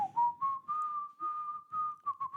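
A single person whistles the bouncy, steady melody of the Newhart sitcom theme in several phrases, close and clear, with no talking.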